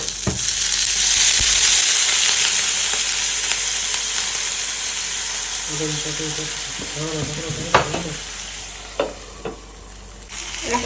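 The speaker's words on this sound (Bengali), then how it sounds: "আর একটু সাইডটা ফ্রাই করবো, তারপর জল দেবো।" Momos pan-frying in a hot pan give a steady close sizzle that fades gradually, with soft scraping and a few sharp clinks of a utensil near the end.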